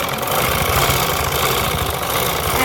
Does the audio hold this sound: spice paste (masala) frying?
no